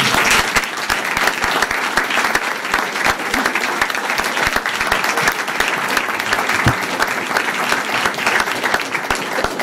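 Loud, dense applause fills a school board of education meeting, a large audience clapping steadily and continuously for nearly ten seconds without a break.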